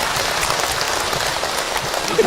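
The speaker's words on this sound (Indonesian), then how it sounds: "Boleh ibu tepuk tangan untuk Hilman" Steady audience applause for Hilman at an Islamic talk, a dense, even wash of clapping throughout.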